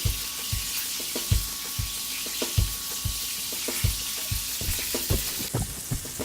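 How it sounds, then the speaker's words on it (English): Food frying in a hot pan with butter for paella, shrimp among the ingredients, a constant bright sizzle broken by repeated soft knocks and scrapes of a utensil against the pan. "So you have to fry them kind of like this"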